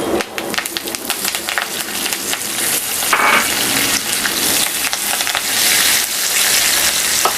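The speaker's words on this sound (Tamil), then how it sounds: "வெறுமனே தேங்காய் எண்ணெய் போட்டுட்டு கருவேப்பிலை போட்டு தாளித்து அதில் கொட்ட போகிறோம்" Curry leaves crackle and sizzle loudly in hot coconut oil in a pan, a dense steady frying hiss with occasional pops and stirring scrapes, close up with no talk.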